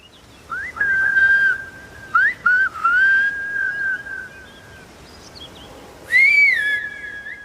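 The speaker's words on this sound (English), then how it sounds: "I just told Hugo with my whistle that there's water, and it's time to turn on the taps." A person in the Canary Islands whistles a signal that water has arrived: sustained, clear, melodic whistled tones in several phrases with short gaps, loud and close against a quiet outdoor background.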